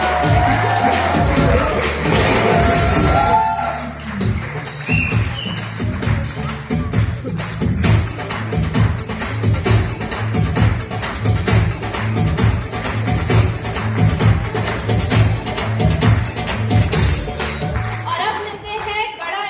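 A crowd breaks into loud applause and cheering to welcome new neighbours on a comedy show stage, a dense, sustained patter of clapping that carries on steadily after a brief spoken introduction.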